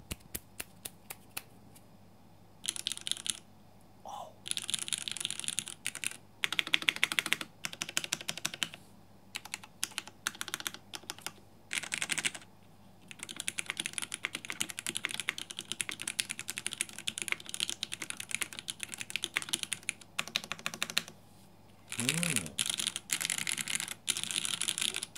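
Typing test on a local-brand computer keyboard: close, crisp key clatter in bursts of rapid strokes separated by short pauses, fairly quiet overall, with a brief spoken word or two in the gaps.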